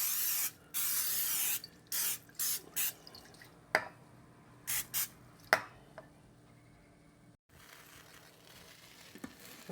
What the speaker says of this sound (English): I'm going to spray the baking dish with some oil.